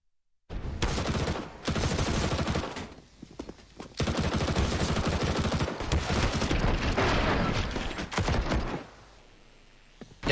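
Rifle gunfire in a Counter-Strike match between BIG and OG at the ESL Pro League crackles in dense, sustained volleys, loud and continuous, with brief lulls around the third and fourth seconds.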